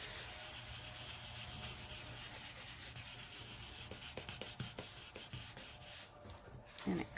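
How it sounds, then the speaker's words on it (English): An ink-covered paper towel is rubbed lightly in circles on paper, making a steady close scratchy rubbing that turns into quicker, choppier strokes toward the end. "I just inked up the paper towel and started lightly rubbing in circles"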